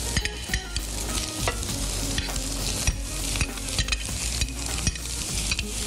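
Meat hits a hot grill pan with a little oil and salt, sizzling loudly and steadily up close while a utensil repeatedly knocks and scrapes the pan in uneven bursts.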